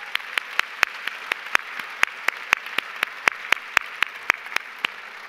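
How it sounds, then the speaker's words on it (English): Gala audience applause for children, heard as a run of distinct, evenly spaced hand claps, fairly steady and close, over a faint background. "Another round of applause for these wonderful children."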